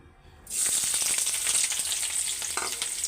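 Bottle gourd greens dropped into hot oil burst into a loud, bright sizzle that holds steady, with light stirring rattles near the end, close by.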